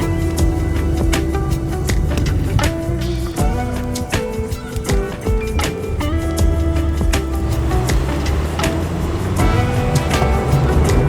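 A Suzuki Baleno car drives through a long city tunnel beneath downtown, with a steady, loud road and engine roar filling the space and continuous reverberant rumble throughout, joined by scattered sharper thumps and clatter.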